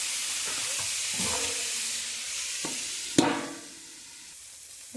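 Cabbage frying in a pan gives a steady sizzling hiss, with several scraping stirs and one sharp clatter partway through before the sizzle quietens.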